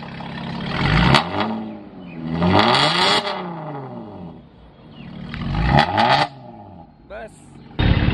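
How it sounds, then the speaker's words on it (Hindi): A Mercedes AMG fitted with a RES racing exhaust revs hard in a workshop, loud close throttle bursts rising and falling several times with brief idle gaps between them. "कैसी लगी अपनी वाली मर्क की आवाज़"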